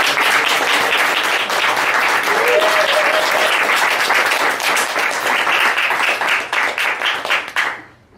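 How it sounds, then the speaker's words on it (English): Sustained, dense audience applause after a live talk, loud and steady clapping from a crowd for about seven seconds before fading out abruptly. "Give her a round of applause."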